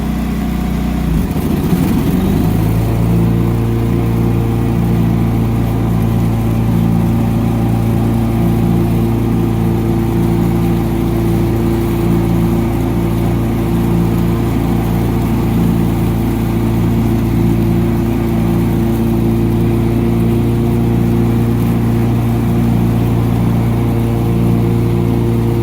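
A John Deere 445 lawn tractor engine runs steadily with the PTO engaged, a loud continuous mid-pitched drone with layered harmonic hum that settles after a brief rise at the start and holds evenly throughout.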